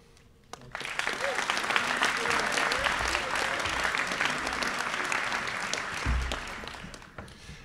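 Applause from the audience at an upper school senior class night, building quickly after a quiet start into sustained, moderately distant clapping from a large crowd, with faint voices and an occasional low thump beneath.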